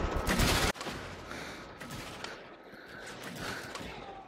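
Gunfire in the VR shooter Blood and Truth, a loud burst of shots for under a second that cuts off abruptly, followed by a lower wash of game ambience and distant bangs.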